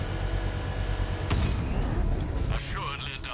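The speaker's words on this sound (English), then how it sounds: "the power winch to trigger a controlled explosion." A power winch in Batman: Arkham Knight creaks and grinds mechanically, a strained rising groan with a metallic sweep near the end, heard over loud game noise and speech.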